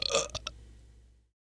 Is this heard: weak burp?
yes